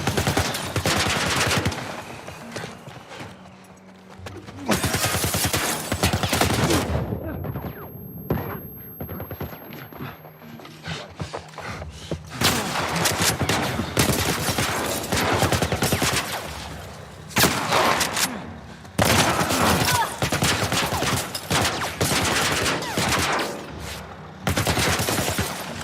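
Heavy automatic gunfire from The Last of Us Part I video game, loud bursts of rapid shots with thumps, coming in long sustained volleys broken by short lulls across the stretch.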